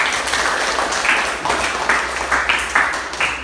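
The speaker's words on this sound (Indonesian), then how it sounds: "Beri tepuk tangan buat kita semua." A classroom of students claps together, a run of loud rhythmic bursts of hand-clapping in uneven groups, close and filling the room without talk.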